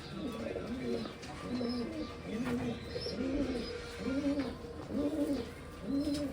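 Old-line racing pigeons coo in a steady repeating rhythm, soft rolling calls roughly once a second, close by with faint chirps and a distant voice in the background.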